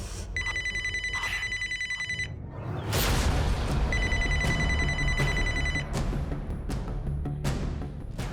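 A telephone rings in two long electronic trilling bursts over a loud, busy background with thuds and rumble.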